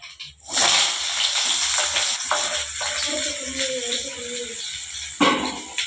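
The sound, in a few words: mustard seeds spluttering in hot oil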